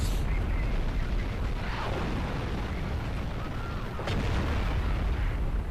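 A tank cannon booms in the mech combat game Steel Battalion Heavy Armour, a heavy low rumble filling the scene with a sharp report near the start and another thump later, over a constant dense battlefield roar.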